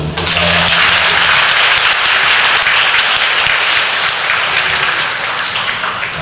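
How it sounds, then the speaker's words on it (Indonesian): Loud, sustained applause from a congregation at a Catholic Mass, steady clapping for several seconds that tapers slightly at the end. "Kita beri tepuk tangan dulu."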